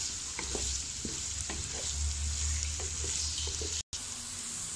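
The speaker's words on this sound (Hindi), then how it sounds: "अब हम प्याज को लाइट ब्राउन कर लेंगे।" Onions sizzle steadily in hot oil for a chicken white karahi, with a spoon scraping and stirring through the pan in soft, irregular strokes, close and continuous.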